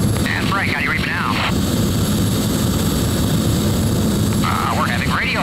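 Coors Light Silver Bullet jet at a 1980 airshow in Punta Gorda, Florida, heard as a steady broad engine roar throughout, with announcer speech over a PA at the start and end.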